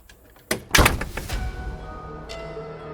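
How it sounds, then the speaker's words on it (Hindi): A mansion door suddenly slams shut as a sound effect, a sharp heavy impact followed by a couple of rattling thuds, then a lingering low ambient hum and a faint later click. "जैसे ही वो लोग हवेली के अंदर पहुंचते हैं, दरवाजा अचानक से बंद हो जाता है।"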